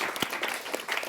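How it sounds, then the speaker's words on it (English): A short burst of warm audience applause greets a guest at a startup panel event, steady clapping from a seated crowd. "You get an applause, a warm one,"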